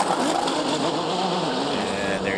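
A Ferrari race car at the 2023 Le Mans 24 Hours fires up and revs, its engine a high, buzzing drone rising in pitch, partly under a commentator's voice.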